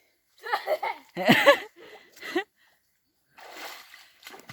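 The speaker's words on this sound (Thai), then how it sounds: "ตอนนี้กล้วยหน่อยเล่นน้ำอยู่" A child splashes and plays in water, bursts of sloshing and splatter mixed with giggling and chatter, pausing briefly before a softer rush of water returns near the end.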